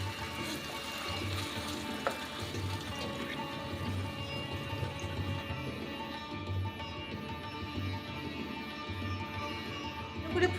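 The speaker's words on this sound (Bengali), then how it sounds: "এবার দিয়ে দেব জল।" Water goes into a pan of curry made with raw banana fritters, giving a steady, even rush and sizzle that holds at moderate loudness throughout.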